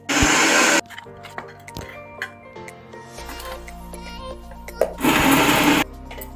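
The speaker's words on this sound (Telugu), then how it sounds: "మిక్సీ పెట్టేస్తాం." An electric mixie grinder blends chutney with cumin in two loud, close whirring bursts at the start and near the end, with quieter kitchen clatter between them.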